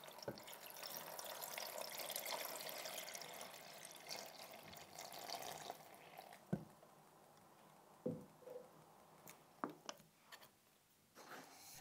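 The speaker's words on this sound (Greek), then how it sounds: "Τα καλύπτουμε με νερό." Water runs from a tap into a pot of raw eggs, a steady splashing pour for several seconds that then stops, followed by a few faint clinks and knocks.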